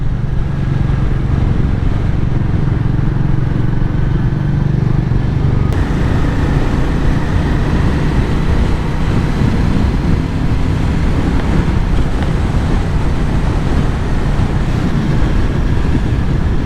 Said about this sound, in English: Pulling like a train on these switchbacks. Lots of torque from these single cylinder engines